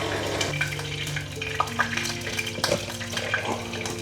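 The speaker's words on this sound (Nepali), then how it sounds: "मस्त भुट्नेर पोल्नुपर्छ यसलाई" Food roasts in a pan with steady frying and stirring, scraping clinks and short bursts of sizzle, close by and without speech.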